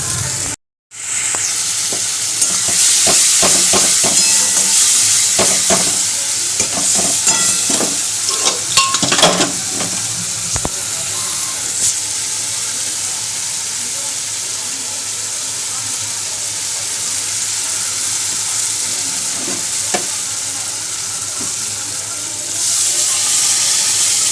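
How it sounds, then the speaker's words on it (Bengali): Onion, ginger, garlic, tomato, turmeric, salt and chilli powder frying in a pan make a steady sizzle throughout, with occasional stirring scrapes and clinks, loud and close. "পেঁয়াজ আদা রসুন টমেটো হলুদ নুন লঙ্কা গুঁড়ো সব দিয়ে ভালো করে কষিয়ে"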